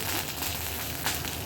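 Curry leaves sizzling in hot tempering oil with cumin and mustard seeds, a loud, dense, continuous crackling hiss close up, with no voices.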